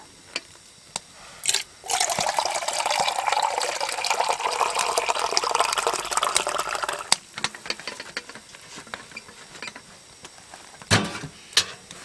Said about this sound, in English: And some fresh wilderness snow melt water.